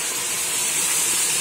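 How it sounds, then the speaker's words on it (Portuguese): Water hits a hot frying pan of pork ribs, making a loud, steady, close sizzling hiss with no voice. "vou ir pingando água nela, até ela ficar bem fritinha"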